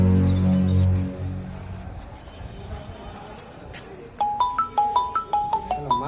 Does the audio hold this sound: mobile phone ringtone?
yes